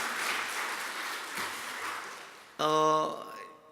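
A church congregation applauds its singers with a steady, moderately loud wash of clapping for a few seconds, then a short sustained tone takes over.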